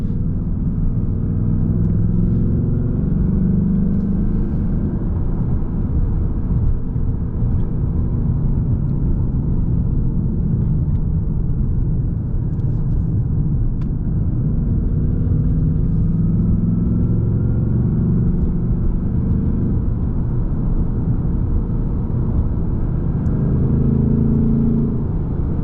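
A 2024 Ford Mustang GT with a stick shift cruises a narrow, curvy road, its deep engine rumble steady and loud from inside the cabin, swelling slightly as it pulls through the bends.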